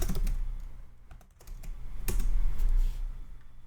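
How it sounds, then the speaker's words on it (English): Typing on a computer keyboard while building a website, with quick bursts of close, crisp key clicks, a short pause, then more rapid tapping. "we could type in contact"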